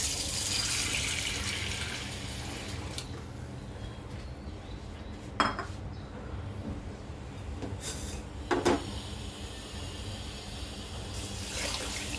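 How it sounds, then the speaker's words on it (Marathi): Water is poured onto sugar in a bowl on the stove to make syrup, a faint trickle and splash with soft clinks of utensils and a couple of sharper knocks. "साखर बुडेल एवढंच पाणी घालायचं आहे"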